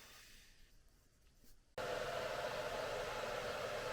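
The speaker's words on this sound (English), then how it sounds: "It makes lots of noise with the compressor going." Partway through, an air compressor in a workshop restoring a 1982 air-cooled VW Vanagon Westfalia kicks on with a sudden loud, steady hiss-like roar, following a quieter stretch of low background noise.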